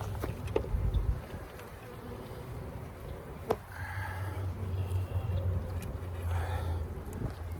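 Honey bees buzz in a dense, steady drone around an open hive during an inspection, close to the microphone, with occasional sharp knocks and handling noises.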